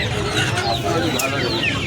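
Chickens, including sonali hens and roosters, cluck and squawk at a busy hen market at Uluberia in Howrah, as a dense crowd murmurs and voices chatter over the whole stretch.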